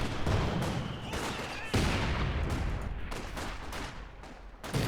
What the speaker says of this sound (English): A cheeky rifle grenade there from Asher.